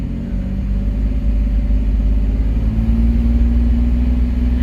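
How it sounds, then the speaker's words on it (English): Engine of a 1985 Pontiac Fiero rumbles loudly and continuously up close as it is held at higher RPM, a steady low drone with a slowly rising pitch and no talk. "So we'll give it some RPM"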